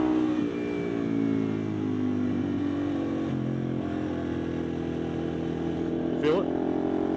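A motorcycle riding through the winding turns of the Tail of the Dragon road hums with a steady engine drone whose pitch rises and falls as it shifts and leans, heard from close by.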